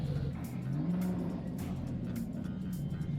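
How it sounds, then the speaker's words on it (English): A rebuilt Ford Mustang GT500 engine, repaired after burning up, runs steadily as the car drives, a continuous low rumble close by with slight rises in revs and no talk. "we got the GT500 running after it burned up. We have to take it for a drive."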